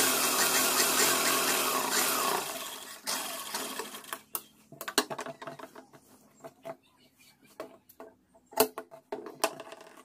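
Stitching on a kurta patti with a sewing machine: a sustained mechanical whirr for the first few seconds that cuts off, followed by scattered clicks and taps from handling the fabric and machine.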